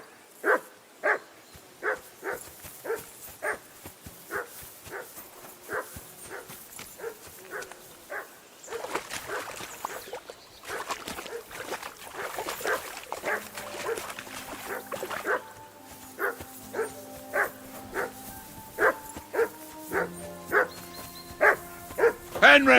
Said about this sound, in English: Be quiet, you flea bit hound.